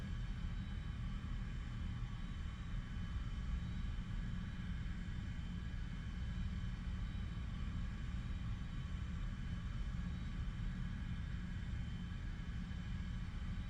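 The jet engine of an A-4B Skyhawk strike fighter in the War Thunder video game, flying from the carrier USS Oriskany, makes a steady, loud, deep roaring rumble that never changes or pauses.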